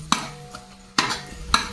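Chicken being tempered with curry leaves in a pot over a village wood-fired chulha for biryani, with three sharp clattering stirs of a spoon against the pot and a faint sizzle between them.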